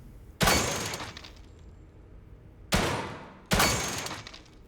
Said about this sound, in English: Goal is, of course, to shoot the targets.